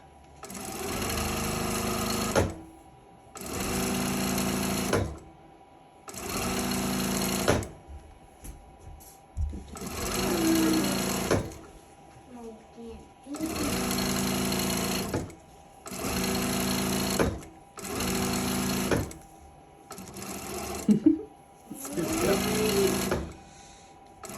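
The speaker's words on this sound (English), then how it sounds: "I usually really pick up speed, and you're just gonna sew all the way down that entire strip" A sewing machine stitches down a long quilt strip in repeated bursts of several seconds each, running at a fast, steady whir between short pauses, close and loud.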